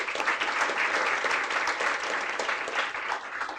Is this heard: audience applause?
yes